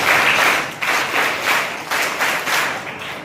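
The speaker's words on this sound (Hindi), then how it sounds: "एक बार और जोरदार अभिनंदन ताली करो" Audience applause at a school annual function, dense and sustained clapping from a crowd with slight swells in intensity, loud and close throughout.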